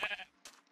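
A goat from the Better Animals Plus mod in Minecraft gives a short, nasal bleat up close, followed by a softer second call.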